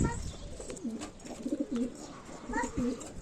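Pigeons cooing in soft, repeated throaty bursts nearby, with a few faint chirps and rustles around them.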